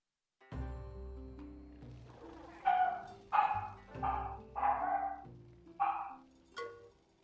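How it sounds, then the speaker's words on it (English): Dogs bark indoors in a run of about six loud, close woofs spaced irregularly over a low steady background hum, with no talk. "Love it when my brother leaves the dogs here."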